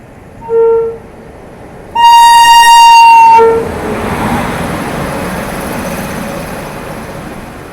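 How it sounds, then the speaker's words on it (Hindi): An Amrit Bharat Express from Anand Vihar Terminal to Darbhanga, led by its locomotive, sounds two loud horn blasts, a short one then a long one, before the rushing rumble of the train passing close by. "ये आ रही है सामने से आनंद विहार टर्मिनल दरभंगा अमृत भारत एक्सप्रेस।"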